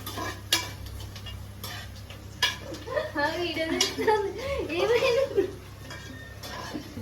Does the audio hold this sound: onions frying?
yes